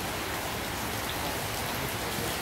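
Rain falling in a dense, steady hiss of drops, loud and close, with no pauses or other sounds over it.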